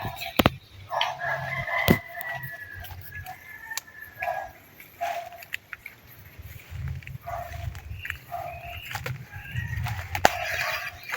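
Roosters crowing outdoors in the Philippines, several drawn-out cock-a-doodle-doo calls from mid-distance, with clucking fowl and wing flaps between them and no talking.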